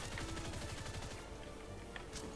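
Gunfire in the plastic-toy-soldier shooter The Mean Greens Plastic Warfare, with a burst of rapid, close shots in the first second followed by scattered, quieter reports amid game noise.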